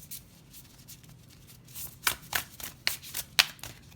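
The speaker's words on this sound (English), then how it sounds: "Let's take that card, and then we'll shuffle another as well." Tarot cards are shuffled by hand during a card reading: soft rustling that builds into a series of sharp, crisp riffling snaps, close and clear with no talking.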